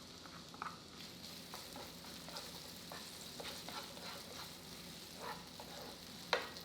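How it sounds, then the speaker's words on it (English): Chopped onion fries in rendered bacon fat in a pan for keto baked beans, giving a steady soft sizzle with occasional stirring scrapes and one sharp clink near the end. "we're gonna go ahead and add the onion, and we're just gonna cook this until it's pretty much translucent"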